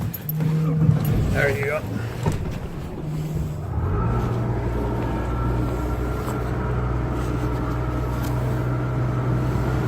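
The outboard motor on a 220 Ocean Defiance boat starts on the water and settles into a steady, close idle hum under wind noise, after a brief spoken word or two at the start.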